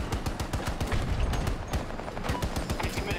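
Rapid bursts of automatic gunfire in Battlefield 2042, a dense run of sharp close shots in quick rhythm, loud and continuous with no voices over it.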